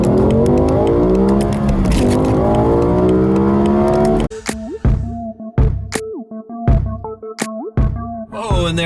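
A BMW E60 M5 with about 500 horsepower accelerates hard toward 100 km/h in M mode, its engine wailing loud and rising through the revs, then rapid upshifts cut the roar into short sharp bursts.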